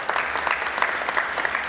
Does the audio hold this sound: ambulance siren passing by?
no